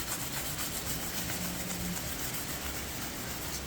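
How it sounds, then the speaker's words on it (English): Steady wet sanding of a scratched carbon fibre spoiler with 800 grit sandpaper and soapy water, a continuous close rubbing hiss with no talk. "Be sure not to sand too much. You don't want to go into the carbon itself."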